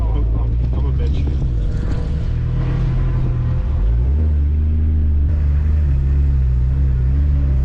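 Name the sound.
Nissan C33 Laurel with R34 GTR engine driving on track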